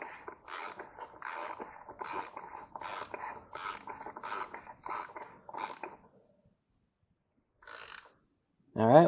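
Cap wrench turning an oil filter cap on a Mercedes SLK 230, a rapid series of clicking ratchet strokes in bursts, close and clear, then a pause, a short burst and a louder final scrape.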